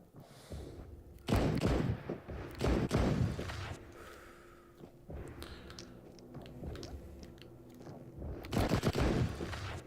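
Sharp gunshots from a gun in Into the Radius, a few loud cracks in separate bursts across the stretch, with quieter thuds and ambient game noise between them.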